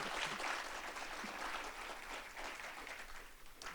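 An assembly audience of faculty and staff applauds a newly introduced vice president for student affairs. The clapping is dense and continuous but fairly quiet and distant throughout.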